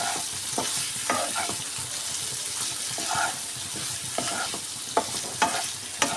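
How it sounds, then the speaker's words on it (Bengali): Fried potatoes and eggs sizzle in spice paste in a pan while a utensil scrapes and stirs, with sharp clinks of the spoon against the pan over a steady close frying hiss. "ভেজে রাখা আলু আর ডিম এই মশলার সঙ্গে দিয়ে আবারও ভালো করে এটাকেও কষিয়ে নেব।"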